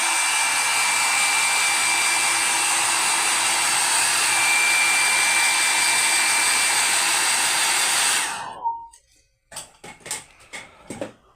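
A hair dryer speeds up drying of paint on a sacred statue, blowing loud and steady for about eight seconds before cutting off, then small handling clicks and taps follow.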